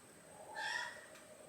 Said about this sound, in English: Oh, those are crows outside.